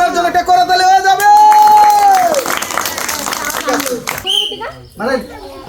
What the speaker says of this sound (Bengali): তো ওনার জন্য একটা করতালি হয়ে যাবে।